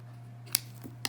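Scissors snip through a folded paper snowflake in two short, crisp bursts of cutting close to the ear, with a faint steady hum behind them.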